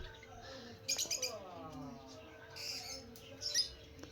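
Lovebirds chirp in short, bright bursts and squawks, a few close calls standing out over a constant background of chattering birds.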